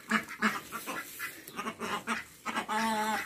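Chickens squawk and cackle close by in a quick, irregular series of loud calls, ending with a longer drawn-out cry.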